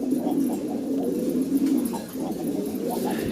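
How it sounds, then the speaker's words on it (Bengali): Several doves coo steadily and softly in overlapping low, rolling calls, close by, with no talking. "আমাদের দেশি লোকাল ডাউকা আর কি সুন্দর মাশাআল্লাহ ডাকতেছে"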